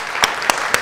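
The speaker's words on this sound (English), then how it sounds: "Nice round of applause." A children's audience at a Christmas science lecture gives a brief burst of applause, three sharp clap peaks over a steady patter lasting under a second.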